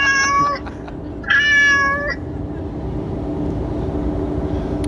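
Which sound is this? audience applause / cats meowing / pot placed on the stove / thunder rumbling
cats meowing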